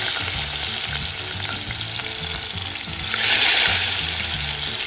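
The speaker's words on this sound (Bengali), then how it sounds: "এবার সর্ষের তেলটা গরম হয়ে গেছে, এবার আমি এই মাছগুলো এর মধ্যে দিয়ে দেবো।" Pieces of rohu fish frying in hot mustard oil with turmeric, a steady close crackling sizzle that swells briefly louder partway through, with no one speaking.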